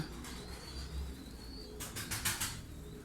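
Pigeons of the Mosul and Kirkuk breeds coo in a loft in Karacabey, Bursa: a low, steady cooing runs throughout, with a brief flurry of wing flapping partway through.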